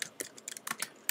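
Someone types on a Mac computer keyboard with a quick run of light, irregular key clicks, close and faint, with no talking.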